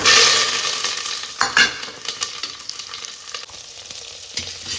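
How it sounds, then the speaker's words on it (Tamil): Cinnamon, cloves, shallots and curry leaves fry in sesame oil for a mutton curry. A loud, crackling sizzle opens and gradually settles, with scattered spoon knocks and scrapes as the pan is stirred. "இப்போ பட்டை லவங்கம் நல்லா பொரிய ஆரம்பிச்சிருச்சு"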